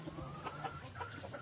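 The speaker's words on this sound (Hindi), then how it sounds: "ये ब्लू ऑस्ट्रलोप मेल है" Blue Australorp rooster clucking near a cage, a quick run of soft, close clucks over faint background hum.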